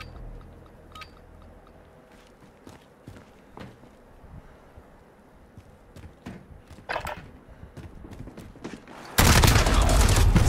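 Call of Duty Modern Warfare multiplayer gunfight with scattered sharp gunshots and bursts among footsteps, faint at first, ending in a loud dense burst of fire.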